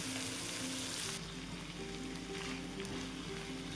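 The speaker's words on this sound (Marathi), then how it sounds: "स्वीटकॉर्न आपण उकडलेले घालून घेते आणि एकदा पुन्हा आणि परत परतून घेते" Boiled sweet corn sautéing in a pan for masala sweet corn, giving a steady close sizzle with light stirring scrapes and no voices.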